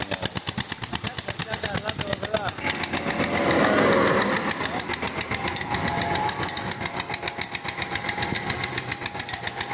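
A tractor engine powering a tube well pump chugs in a fast, even stream of loud, close exhaust beats that swell briefly midway and then settle back.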